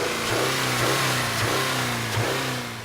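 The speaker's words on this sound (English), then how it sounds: "the boxer engine does have a somewhat gruff" A 2013 Subaru Crosstrek's 2-litre boxer engine revs in repeated pulses, a gruff mid-pitched drone rising and falling, close and loud before easing off at the end.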